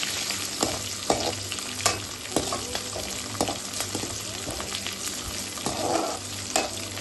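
Garlic tempering (tadka) for a ridge gourd dish sizzles and crackles steadily in a hot pan, with occasional sharp clinks and scrapes of stirring, close and continuous with no voices.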